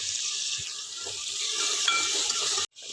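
Onion and tomato masala sizzles steadily in a pan, a continuous bright hiss with small crackles, close and fairly loud, cut off briefly near the end.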